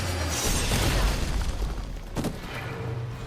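Explosions from the Midnight Suns video game dealing splash damage, with a loud dense blast at the start and a second sharp burst near the end, all over a rumbling low background.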